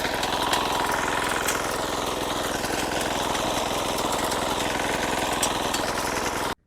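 A Sharp Garuda mini weeder's small engine runs steadily and loudly close by in a tapioca field, its rapid firing rhythm unbroken, with no one speaking over it.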